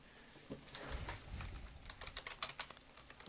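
A layer name is typed on a computer keyboard as a quick, soft run of key taps. The taps are close but quiet and come faster toward the end, with no talk over them.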